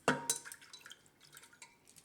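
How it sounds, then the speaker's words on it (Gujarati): Water is poured into lentils in a metal pressure cooker: a couple of sharp clinks are followed by soft splashes and drips, close and fairly quiet. "એ રીતે આપણે પાણી મૂકી દેવાનું આ રીતના."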